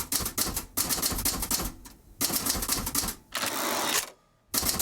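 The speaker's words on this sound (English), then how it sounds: "I'm typing up my recollection of the meeting." A typewriter clatters in close, rapid bursts of keystrokes separated by short pauses, with a longer run of sustained noise near the end before a brief silence and a final strike.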